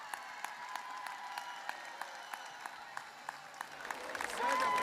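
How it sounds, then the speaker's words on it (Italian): An audience at a live event in Carbonia, Sardinia applauds, a steady distant patter of clapping with faint rhythmic beats, swelling louder at the end as a voice comes in. "Un bellissimo applauso."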